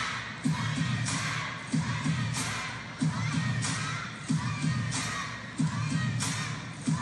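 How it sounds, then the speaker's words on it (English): A large crowd cheers and chants in rhythmic bursts, roughly every second and a half, at a women's singles table tennis final at Europe Smash 2025; the chanting is loud and sustained, with no talk over it. "You can hear the crowd."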